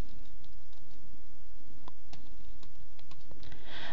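Someone types commands at a Linux terminal on a computer keyboard, making sparse, irregular key clicks close up over a constant hiss.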